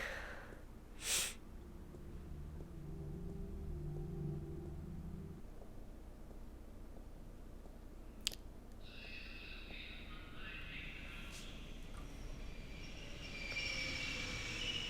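Subway train in The Longest Journey, a low rumbling rail roar through most of the stretch, with a couple of sharp high squeals and a brighter hissing screech of wheels toward the end, no voices.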